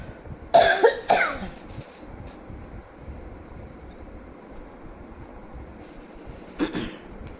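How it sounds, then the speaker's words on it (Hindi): Two sharp coughs in quick succession close to the microphone, then quiet room noise, and one more softer cough near the end. "मुझे थोड़ी खांसी हो रही है"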